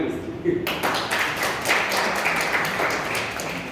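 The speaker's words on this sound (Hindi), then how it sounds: "तालियां" A lecture audience in a hall breaks into applause after a motivational talk on confidence building, clapping that starts abruptly and holds as a steady wash.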